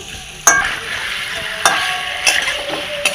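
Fried homemade paneer tipped into a pan of curry and stirred, giving a few sharp scraping clatters over a steady soft sizzle, close and alone with no talk.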